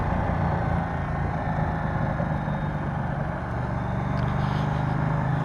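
A Ducati Diavel motorcycle engine drones steadily while riding, a continuous low rumble with wind noise and no breaks.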